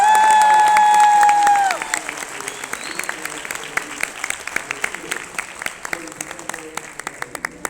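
Audience at a book fair talk breaks into applause, its steady clapping first mixed with a brief sustained tone, then continuing alone with sharp individual claps toward the end.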